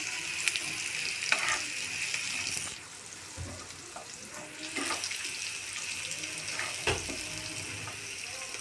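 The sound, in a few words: onion and garlic frying in a pan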